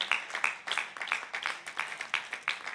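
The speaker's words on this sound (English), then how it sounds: "it's so easy to clap to this" A church congregation claps along in a steady rhythm during a sermon, with even, fairly close handclaps repeating roughly three to four times per second.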